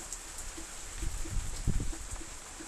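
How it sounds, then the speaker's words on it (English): Steady rain falling outdoors, a continuous soft hiss with scattered drips and faint low rumbles, moderately close and without voices. "Now we're getting a steady rain."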